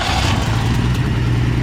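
A 1962 Ford Falcon, a stock two-door sedan sitting abandoned for years, has its engine cranked with a little fuel added, producing a steady, loud churning mechanical drone that holds for the whole moment.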